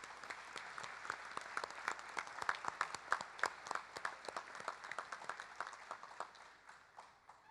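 An audience at a Veterans Day sign dedication ceremony applauds steadily for several seconds, dense clapping that swells and then tapers off toward the end.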